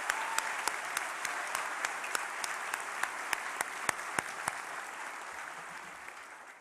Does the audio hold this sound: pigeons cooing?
no